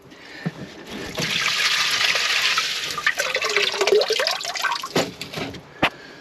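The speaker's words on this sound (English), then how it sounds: "all the muck is swished up off the bottom and all goes down the drain" Water and silt swished around inside a koi pond filter chamber and draining away, a close, steady rushing gush with sloshing and a few knocks, no talking.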